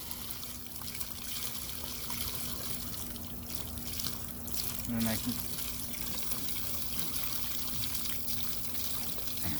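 Water from a garden hose rinses a batch of black walnuts during home husking, a faint, steady trickle and splash running continuously beneath a quiet voice.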